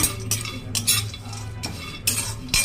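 A spoon stirs and scrapes food being lightly roasted in a pan for a baby meal, giving close, rhythmic scraping strokes about every half second with a faint metallic clink.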